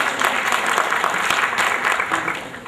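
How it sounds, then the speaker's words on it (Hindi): An audience at an award ceremony claps loudly and steadily, a dense wash of many hands that fades slightly at the end, with no speech over it. "जोरदार तालियों के साथ हमारे अवार्डीज की आप हौसला अफजाई करें।"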